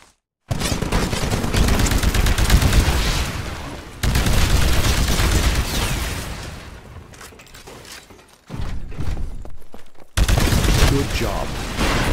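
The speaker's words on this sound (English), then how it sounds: "Destroy the Titan with your anti-Titan weapon." Heavy anti-Titan weapon fire against a Titan in Titanfall's tutorial: loud, booming bursts of gunfire in several long volleys separated by brief pauses, layered with mechanical rumble and explosions.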